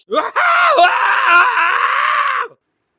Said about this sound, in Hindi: तो तीनों दोस्त चीखे।